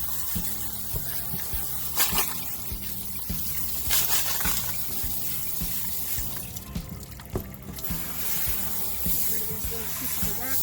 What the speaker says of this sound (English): Let's give it another rinse.